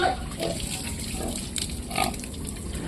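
A 91-kilogram pig being sold grunts several times in short, irregular bursts at close range over a low background rumble.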